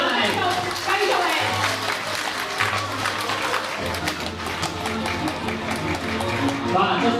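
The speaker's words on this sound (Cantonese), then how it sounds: "仲有掌聲鼓勵" Studio audience applause on a Minute to Win It style game show during a stacking challenge, steady clapping throughout with a voice talking over it and a low hum beneath.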